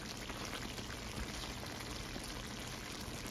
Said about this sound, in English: Potatoes still need to cook, so I'll add a little more water